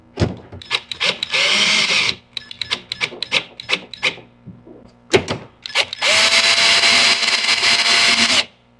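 A power drill drives screws into an equipment rack, with short stuttering bursts of whirring first, then a long sustained run of the motor, loud and close.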